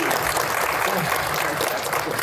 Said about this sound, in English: can we get a round of applause for Logan